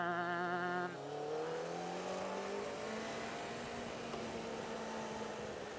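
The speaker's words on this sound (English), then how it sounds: "that's the first overtake of the day" A car accelerates to overtake, its engine tone climbing steadily in pitch, heard from inside the cabin as a smooth, moderately quiet rising whine over road rumble.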